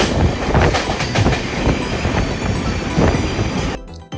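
A Konkan Railway train from Goa to Kerala rolls loudly along the tracks with a heavy rumble and rhythmic clickety-clack, continuous until it cuts off abruptly at the end.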